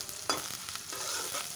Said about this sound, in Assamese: এতিয়া আকৌ এবাৰ সকলোখিনি ভালকৈ লৰাই দিছো।